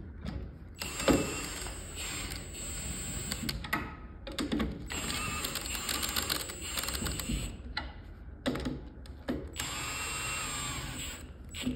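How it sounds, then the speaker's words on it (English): Impact wrench set to its lowest setting, run in repeated short bursts while tightening trailer wheel nuts after a bearing replacement, with rattling mechanical hammering and brief pauses between nuts. "Impact on the lowest setting, that way I don't over tighten them."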